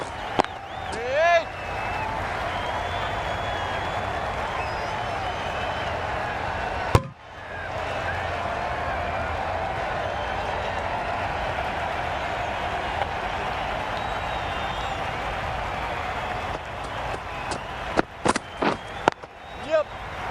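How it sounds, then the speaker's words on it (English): A noisy cricket ground crowd in the Cricket 22 video game keeps up a steady roar throughout, broken by one sharp crack and a cluster of claps and thuds near the end. "the crowd have joined the party. It's pretty noisy in the ground."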